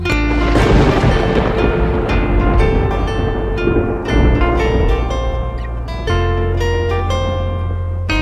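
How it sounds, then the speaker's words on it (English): A thunder sound effect rumbles loud and steady through a children's nursery rhyme, blended under bright music for the whole stretch without a break. "I hear thunder, oh don't you, oh don't you."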